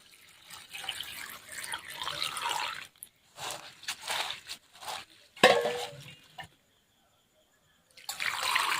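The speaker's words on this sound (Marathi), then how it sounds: "स्वच्छ पाण्याने धुवून घ्यायचे" Water sloshes and splashes in bursts, with short pauses and a quiet stretch near the end, as flattened rice (poha) is rinsed in a bowl.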